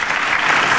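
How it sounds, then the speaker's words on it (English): Steady audience applause fills a conference hall at a corporate marketing presentation, a dense continuous wash of clapping at even loudness with no pauses or voices. "Please give him a round of applause."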